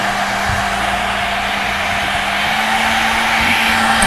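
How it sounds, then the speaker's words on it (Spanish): Hair dryer blowing steadily on a decorated egg held in the hand, a loud constant whoosh with a motor hum that holds even from start to finish, with no talking over it. "aquí vamos a trabajar hacia abajo lo que es el secador"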